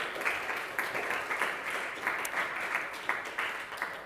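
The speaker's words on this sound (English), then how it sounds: "please welcome him with a big round of applause." Applause from a modest audience welcoming a speaker to an academic talk, fairly faint and roomy, with individual claps standing out in an uneven, sustained patter.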